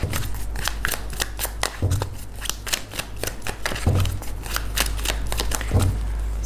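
Tarot cards are shuffled and flicked in quick, close, crisp riffles, with a few heavier taps as cards are drawn and set down.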